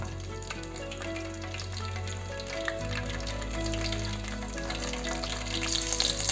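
Bay leaf sizzling in hot oil in a pressure cooker while tempering for mutton paya curry, a steady close crackle and hiss with a low hum underneath that grows louder midway, without any voices.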